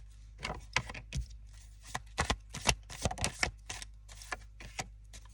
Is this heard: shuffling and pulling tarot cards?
yes